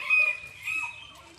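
Chickens cluck and squawk nearby in a short, lively burst, with one bird's call rising above the rest.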